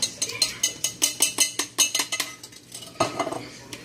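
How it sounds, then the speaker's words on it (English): Canned tomatoes being drained, a rapid, steady run of metallic clinks and taps from a utensil against the can or strainer, close and bright. A softer scraping follows. "This is how I drain my tomatoes, my canned tomatoes"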